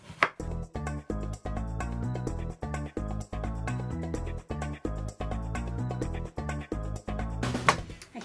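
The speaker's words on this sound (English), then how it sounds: "I'm going to chop these down" Vegetables being chopped on a board while preparing roasted harlequin squash, a steady run of crisp knife strikes in quick irregular rhythm, close and fairly loud, with no one talking.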